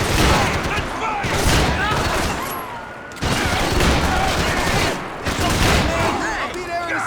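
Sustained gunfire in the video game Max Payne 3: loud, dense bursts of rapid shots and heavy blasts filling nearly the whole stretch, pausing briefly twice, with voices shouting amid the firing.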